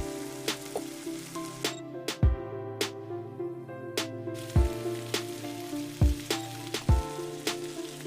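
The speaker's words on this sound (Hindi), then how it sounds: "अब हम प्याज और मसालों को मिला लेंगे और ढककर 3 से 4 मिनट तक पकने देंगे।" Onions and spices for pav bhaji frying in a pan: a steady close sizzle, broken by sharp clicks and a few low knocks, with no one talking.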